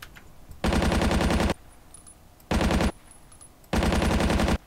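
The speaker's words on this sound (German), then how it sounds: "Da hat einer geschossen, das habe ich gesehen." Machine gun fire in Battlefield 1942 on the Wake Island map: three loud sustained bursts of rapid automatic shots, separated by short quiet gaps, with no voices.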